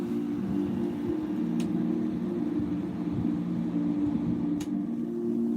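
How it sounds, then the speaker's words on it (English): An air conditioner runs in a quiet back bedroom, giving a steady, even hum with a low droning tone that holds unchanged throughout, with no voices. "I'll turn the air conditioner off."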